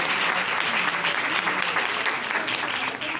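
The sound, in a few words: loud applause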